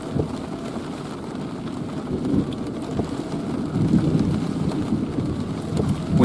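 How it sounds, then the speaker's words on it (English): Storm in southeast Nebraska, heard from a storm chaser's position: a steady wash of rain and wind with low, rolling thunder rumbling underneath, continuous throughout. "We hear you, Thunder."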